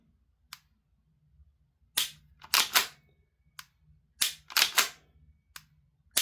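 A Tokyo Marui P320 gas blowback pistol gives a few sharp, close trigger clicks in a quiet room, some of them doubled, as the trigger is pulled and resets.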